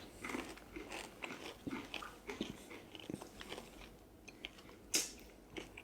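Crispy, non-fried salami crisps being bitten and chewed up close, a series of sharp crunches and smaller chewing crackles over a few seconds, with one louder crisp snap near the end.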